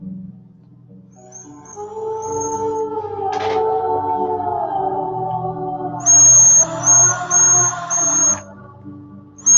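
A high, thin whistle from a cap on a dab rig, sustained with wavering pitch and a sharper piercing tone toward the end, loud and close with no talk.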